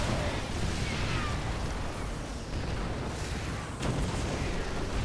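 Massed siege tanks in a StarCraft 2 Terran mirror match fire heavy volleys, a dense continuous roar of explosions and artillery blasts layered over battle noise, with one sharper crack near the end.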